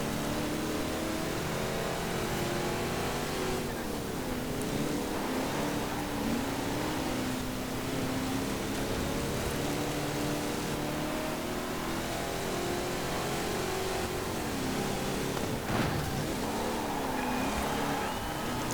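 Ford Mustang GT and Ford Falcon muscle cars racing in Forza Horizon 4, a continuous loud engine roar with rising and falling revs and gear changes throughout.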